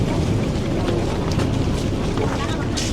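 A speedboat with a Mercury four-stroke outboard motor idles at a pier near Pattaya in Thailand, a loud steady rumble mixed with wind buffeting the microphone and water noise.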